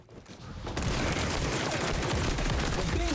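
Sustained Magnum gunfire in the online shooter XDefiant, loud and dense from about the first second onward, with rapid overlapping shots and impacts forming a continuous barrage.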